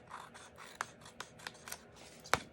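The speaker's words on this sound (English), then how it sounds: "I'm going to trim that down." Card stock trimmed down to size for a handmade butterfly card, giving a quiet scraping rasp with several short, sharp slicing cuts spread unevenly, the last one loudest, close up with no talk.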